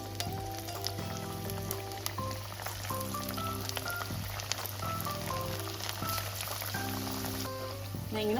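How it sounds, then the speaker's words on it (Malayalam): Green gram vadas, shaped into small balls, deep-fry in hot oil with a steady crackling sizzle throughout, accompanied by quieter background music. "ഓരോന്നും നമുക്ക് നല്ല ചൂടായ എണ്ണയിൽ വറുത്ത് കോരിയെടുക്കാം."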